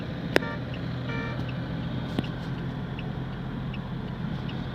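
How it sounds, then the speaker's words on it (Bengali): Car engine and road noise hum steadily from inside a car driven slowly through thick fog, with a couple of faint clicks and brief beeps and no talking. "আমি গাড়িটা চালাতে আর পাচ্ছি না কুয়াশার জোরে"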